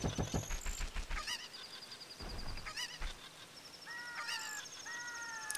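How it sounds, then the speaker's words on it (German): Cucco chickens in the Zelda: Ocarina of Time hack, a series of sharp, high-pitched squawking calls over soft background game music, fairly close and repeated in quick bursts. "Wir haben da ein Huhn."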